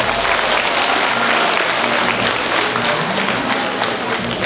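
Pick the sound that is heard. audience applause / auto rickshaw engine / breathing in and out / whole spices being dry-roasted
audience applause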